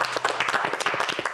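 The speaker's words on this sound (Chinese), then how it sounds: "掌声鼓励。" Dense, lively applause from a small group after a test-dinner service at an old-house restaurant on a Taiwanese reality show: many quick overlapping claps, close and fairly loud throughout, with no speech.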